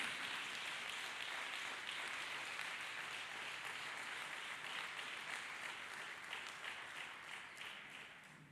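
A congregation at a church healing service claps hands for Jesus Christ, a dense, steady round of applause filling the room throughout and tapering slightly toward the end.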